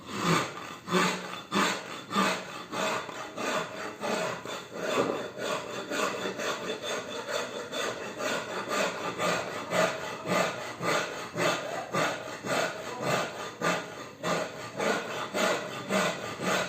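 Steady back-and-forth rasping of a wooden Telecaster electric guitar body with a file, close and continuous, rhythmic strokes repeating for the whole stretch with no talk.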